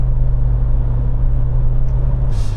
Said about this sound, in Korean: 변속이 CVT처럼 되네.